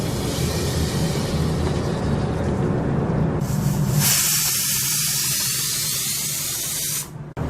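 Marinated mutton hitting a hot pot for a Mandi rice dish, giving a loud, steady sizzling hiss that surges sharply midway and holds until a brief break near the end, with no talking.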